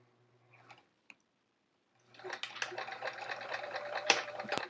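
A sewing machine stitches a pencil pocket in fabric. A couple of faint handling taps come first, then after about two seconds a close, steady run of mechanical stitching begins, with one sharp clack near the end.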